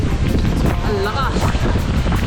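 Wind gusting outdoors beside a large swimming pool, a constant loud rumble buffeting the microphone with a brief voice over it.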